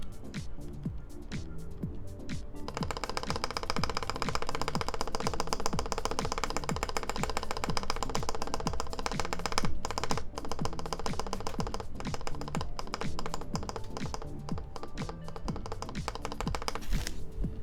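Someone types steadily on a custom-built Studio Kestra Nue mechanical keyboard, producing dense, close, clacky keystrokes with occasional heavier thocks from larger keys, alone without talk.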